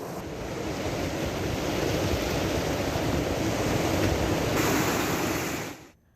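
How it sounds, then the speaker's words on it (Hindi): The flooded Sharda river in Uttarakhand rushes past in a loud, steady roar of churning water that holds constant for several seconds, then fades out abruptly at the end. "शारदा नदी अपने प्रचंड रूप में है"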